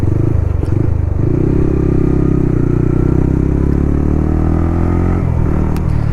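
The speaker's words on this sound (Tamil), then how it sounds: "நாய்ஸும் கம்மியாக இருக்குது, வண்டி நல்லா இருக்குது இப்போது" Motorcycle engine running steadily on a mountain road, a loud close continuous drone with slight changes in pitch and no talking.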